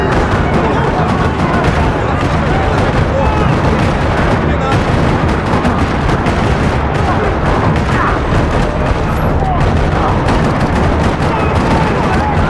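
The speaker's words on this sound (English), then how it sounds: "Another parking lot rattling with gunfire." Dense, continuous gunfire fills a parking lot in the video game Max Payne 3, loud rattling bursts with booms layered over a busy, unbroken din that never pauses, with no talk.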